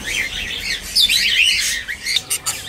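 Shrill cockatiel calls and squawks come in quick bursts, loud and close, some overlapping in a busy cluster with short gaps between.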